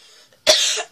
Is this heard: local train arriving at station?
no